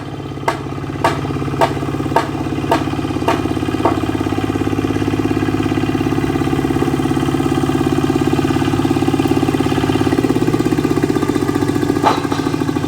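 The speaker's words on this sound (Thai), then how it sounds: "รถไถรถอีแตนเฮา" A walking tractor's small single-cylinder engine chugs steadily at idle, loud and close, with a few sharp metallic clicks early on.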